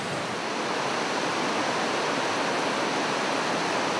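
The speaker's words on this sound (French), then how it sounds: "c'est une rivière, on le voit, qui a un faciès assez plat, qui va s'alterner entre des grands plats et des petits radiers, des petites cascades" A flat mountain river alternating between broad pools, small riffles and little cascades rushes with a steady, even, close wash of water and no other sounds.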